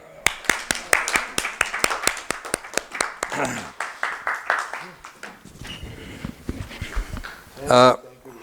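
An audience at a seated gathering claps in a loose burst of sharp, fairly regular hand claps that thin out after a few seconds, mixed with someone talking over them.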